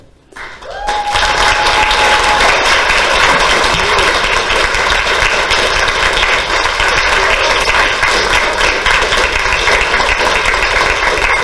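An audience at an award ceremony breaks into loud, sustained applause for the winner after a brief quiet start, and it continues steadily to the end without talk.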